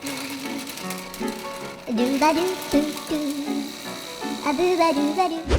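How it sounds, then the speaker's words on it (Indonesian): An electric food chopper grinds lemon peel with a loud, close buzzing whir that starts at about two seconds and runs in uneven pulses, with music in the background. "Saatnya kita chopper sampai halus."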